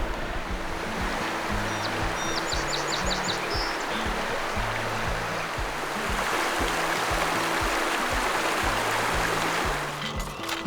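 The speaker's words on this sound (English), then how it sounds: "Got to listen to this babbling stream all night long." A babbling stream runs at a camp spot, a continuous full rushing flow with brief chirping birds early on and low rhythmic tones beneath.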